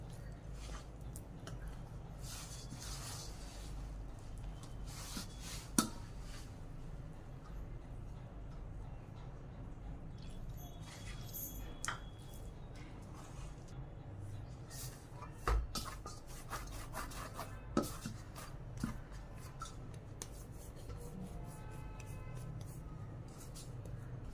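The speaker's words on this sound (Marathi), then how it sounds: "यामध्ये थोडं पाणी टाकून हा डो मळून घ्यायचा." Donut dough kneaded by hand with a little water added, a long stretch of soft rubbing and squishing with occasional light knocks against the bowl.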